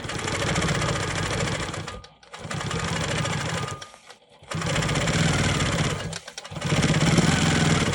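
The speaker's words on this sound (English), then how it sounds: "I'm going to quilt in the ditch of this sashing to the best of my ability" A Quilt Maker Pro 20 quilting machine stitches in the ditch along block sashing, a loud steady rapid needle hum running in three long bursts with brief pauses between them.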